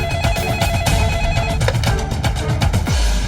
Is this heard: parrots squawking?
no